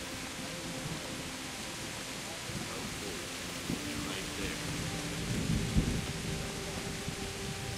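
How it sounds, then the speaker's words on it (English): Steady heavy rain hisses across the whole scene in Kingdom Come: Deliverance, with a low rumble of thunder swelling near the end; a faint voice murmurs underneath. "Because it's heavily raining."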